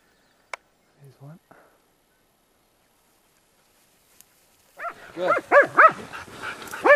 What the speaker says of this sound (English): Now the dog's coming down for a little bit.